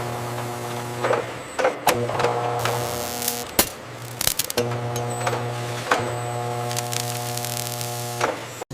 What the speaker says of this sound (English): Plastic lids are screwed on tight by spinning rubber wheels.